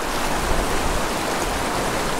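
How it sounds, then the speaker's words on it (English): Small mountain creek flowing steadily, a continuous broad rushing and babbling of water heard close up and evenly loud throughout, with no voices. "Oh, what a beautiful little creek."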